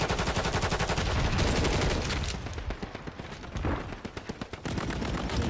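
Rapid automatic gunfire in Call of Duty on the Stash House map, long loud continuous bursts with a brief choppier stretch of single shots in the middle, close and dominant.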